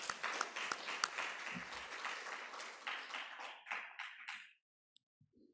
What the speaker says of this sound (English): Please let us clap for these good ladies.